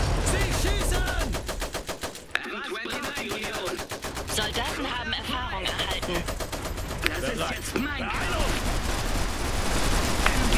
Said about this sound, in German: Sie schießen!